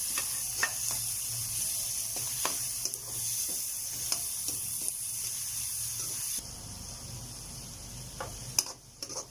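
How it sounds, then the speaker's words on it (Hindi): Minced keema frying and being stirred in a pan for stuffed karela, with steady sizzling and hiss broken by repeated scraping clicks of a spoon, close and continuous throughout. "हम इसको अच्छी तरह भुनेंगे ताकि कीमा हमारा गल जाए।"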